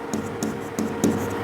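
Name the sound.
writing by hand while solving a maths problem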